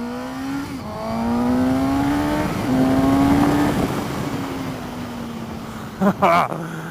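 A Suzuki GSX-S750 motorcycle accelerating through the gears, engine rising in pitch with clear shift drops, loud and close, with a rider speaking briefly.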